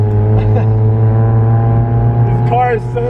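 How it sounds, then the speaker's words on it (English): Loud, steady idle and rumble of a Rocket Bunny kitted Nissan S13 at a car meet, deep droning engine tone close by with a brief rev near the end and some background voices. "This car is so loud."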